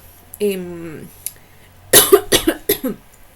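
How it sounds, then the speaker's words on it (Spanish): A short vocal sound is followed by a burst of several harsh, rapid coughs in quick succession, close to the microphone. "Ay, perdón, que me agarró tos."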